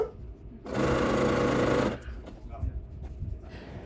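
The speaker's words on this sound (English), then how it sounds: "I'm not actually sewing fast here" A sewing machine stitching a child's prairie bonnet runs in a steady, fast-sped whir for about a second, loud and close, then stops, leaving quieter fabric handling and small knocks.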